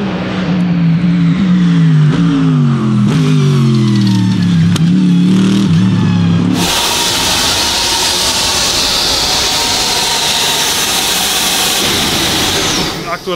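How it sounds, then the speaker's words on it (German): A current-spec AMG GT3 naturally aspirated 6.2-litre V8 with its road exhaust, back from a rebuild and checked on a test bench, burbles loudly with falling revs, then breaks into a steady, roaring high-rpm run close up. "das ist aber so dieses typische Geräusch, was man so von der Nordschleife immer kennt, wenn die V8er so runterbollern."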